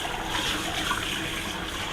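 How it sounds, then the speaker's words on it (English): Water runs steadily from a tap during sieving for a bayberry vodka cocktail, a continuous broadband hiss at moderate level with no pauses and no voices. "I'm sure you could hear the water running"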